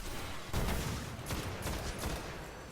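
Sustained automatic gunfire in a Destiny Nightfall strike at Dust Palace, a steady dense rattle of shots kicking in after a brief lead-in, fairly quiet and continuous with a few sharper cracks.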